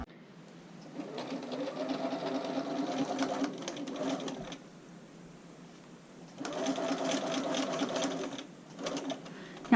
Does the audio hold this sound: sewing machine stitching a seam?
yes